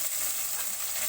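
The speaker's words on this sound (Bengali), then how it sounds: "সব কটা আমি এখানে দিয়ে এখন আমি এটা ভাজা ভাজা করবো।" Onion, potato and eggplant fry in a pan, giving a close, steady sizzling hiss that runs unbroken for a brief moment.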